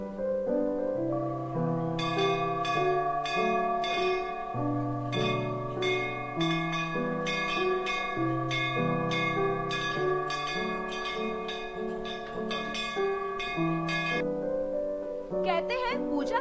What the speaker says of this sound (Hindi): बिना हाथ लगाए बजती है मंदिर की घंटी।